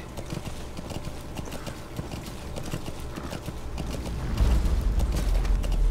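Horse hooves clip-clop in a quick, steady rhythm in Metal Gear Solid V: The Phantom Pain, growing heavier and louder toward the end, with faint creaking mixed in.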